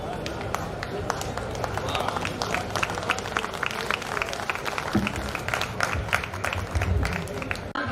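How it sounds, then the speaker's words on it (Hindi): Audience applause at a stage poetry gathering with many poets in Bhilwara, Rajasthan: a steady wash of clapping sustained throughout, fairly distant, with voices mixed in. "एक बार जरा जोरदार तालियां बजाइए"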